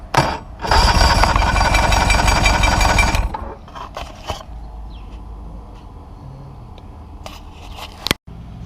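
A Yamaha 115 two-stroke outboard cranks over with a loud, rough, churning starter roar that runs for about three seconds, then drops to a low steady hum broken by a few faint knocks and clicks.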